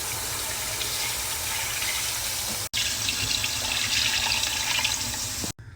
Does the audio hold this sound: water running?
yes